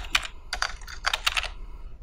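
Computer keyboard typing: several quick clusters of crisp, close key clicks in an uneven rhythm, with a short gap between bursts.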